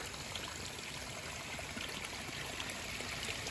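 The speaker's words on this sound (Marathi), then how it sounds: "ही पाण्याची ओहळ अप्रतिम निसर्ग" A small natural stream flows and trickles steadily, a soft continuous watery hiss at moderate distance, heard alone without talk.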